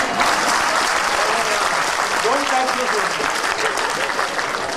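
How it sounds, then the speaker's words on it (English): An audience at a debate-style stage event bursts into loud, continuous clapping, with a voice speaking briefly over the applause. "people clap."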